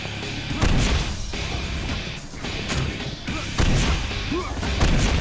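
Repeated weapon fire in the game Painkiller, a series of loud broadband bursts and thuds spread across the clip with steady harsh noise between them.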